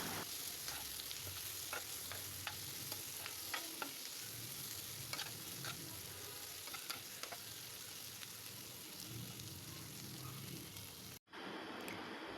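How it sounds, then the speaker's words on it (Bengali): Onion, garlic and green chillies fry in mustard oil for fish fry, a steady loud sizzle with frequent crackles and pops and occasional stirring, continuous and close before cutting off abruptly near the end. "আর কেটে রাখা পেঁয়াজ, রসুন, কাঁচামরিচ হালকা বাদামি করে ভেজে নেব।"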